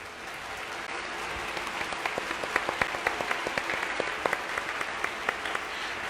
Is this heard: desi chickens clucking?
no